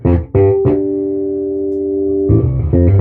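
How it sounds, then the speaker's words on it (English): A bass guitar played through an overdriven, struggling amplifier plays a few short attacks, then one long sustained distorted note, followed by more brief plucks, loud and close. "If y'all can hear my amp is struggling right now."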